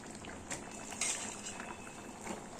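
Pangas fish sautéing in a pan, soft sizzling with scattered clinks of a utensil stirring against the metal, faint and close.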